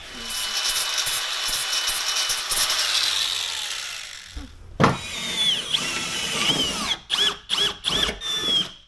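A power drill with a cobalt bit whines continuously as it bores through metal, then stops; several short bursts of the drill follow near the end.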